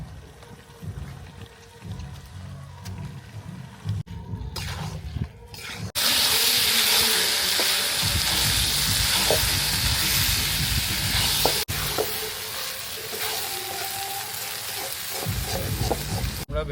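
Chopped tomatoes go into a pan of spicy pork masala frying for a village-style pork curry, and a loud burst of sizzling and hissing steam follows, stirred and crackling steadily close by with no talking.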